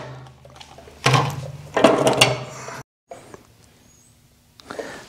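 Ratchet work loosening bolts on a 47 to 54 inch parallel shaft gear drive snowblower for a John Deere 1025R tractor, with bursts of clicking and mechanical clatter broken by a short silence, close and moderately loud.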